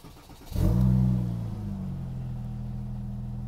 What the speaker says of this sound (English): Let's see how the Metzger engine starts up.